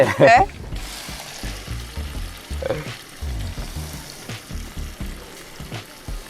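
Mustard seeds, fenugreek, ginger and garlic hit hot oil with a loud initial burst of sizzling and spattering, then crackle on steadily with stirring, for a crab curry cooked in a Kerala toddy shop kitchen, with voices talking faintly under it.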